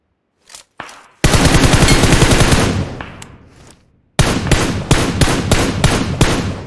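Loud gunfire in PUBG Mobile: a few scattered single shots, then a long sustained automatic burst that fades, followed by a rapid string of close, sharp shots.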